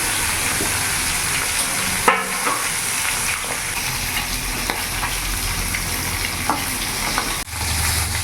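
Pieces of rohu fish fry in hot oil, a steady loud sizzle running throughout with occasional stirring and utensil clinks, and no voices.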